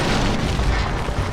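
Loud, continuous booming blasts in the video game Shadow Complex, one heavy rumble running into the next with no pause and nobody speaking.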